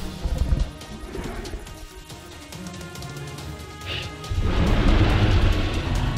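A gunshot in the dinosaur hunting game The Hunter Primal: a sharp, close crack near the start, followed by duller game noise, then a louder crashing rumble building near the end.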